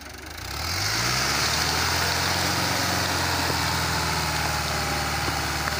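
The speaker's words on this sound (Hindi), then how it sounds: "लो जी हुण ट्रैक्टर के जोर देखो, जड़ा चू कढ़ के लै गया" A tractor engine revs up from idle and holds a loud, steady, labouring drone while pulling a tree stump out of the ground, with no talk over it.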